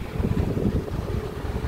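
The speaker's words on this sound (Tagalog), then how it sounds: "Sarap ng hangin, presko." Steady wind rushing and buffeting outdoors, a continuous low roar with gusty fluctuations and no voices.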